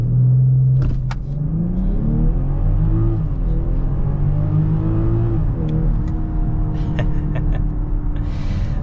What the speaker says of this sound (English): So I'm gonna go ahead and do an acceleration right here.